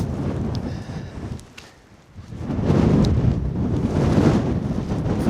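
Rough, rumbling wind buffeting the microphone on a hilltop, easing briefly before gusting back up strong and continuous.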